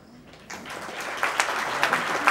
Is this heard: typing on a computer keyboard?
no